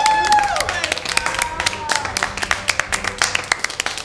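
Applause closes the 2021 Premios Corona awards, with scattered claps and crowd noise rising over music and a voice at the start, then continuing as sharp, irregular hand claps.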